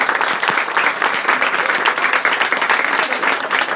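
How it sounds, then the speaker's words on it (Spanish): A conference audience at a forum event on Ayotzinapa applauds steadily and densely throughout, a close, loud wash of many hands clapping with no break. "Muchas gracias, un aplauso."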